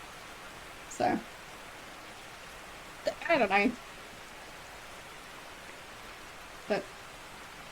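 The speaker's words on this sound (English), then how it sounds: "we just get to enjoy the rain sounds instead" Steady soft rain hiss from the 1990 game Hugo's House of Horrors fills the background, constant and even, with a few brief spoken words over it.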